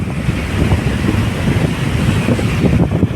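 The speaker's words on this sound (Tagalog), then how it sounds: "Ang lakas ng mga alon mga bayan." Strong waves churn at Manila Bay during rain, with heavy wind buffeting the microphone in a loud, continuous low rumble and no voices.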